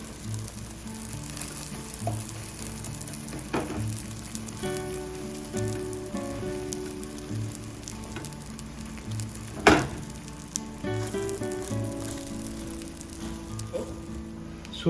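Omelette curry simmers and sizzles steadily in a pan, a continuous crackling bubble with a few louder pops and one sharp clatter midway, with no talking.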